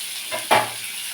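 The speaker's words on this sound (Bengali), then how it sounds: "আমি তেল একেবারেই দিয়ে দিয়েছি, একটু বেশি পরিমাণে দিয়ে দিয়েছি, যাতে বিনস আর আলুটা ভাজা ভাজা হয়ে যায়।" Beans and potatoes fry in a generous amount of hot oil, a steady close sizzle that swells into a louder hissing burst midway, as if stirred, then settles back.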